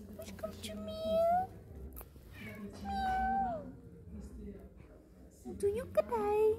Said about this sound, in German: Yeah, that is a meow, meow.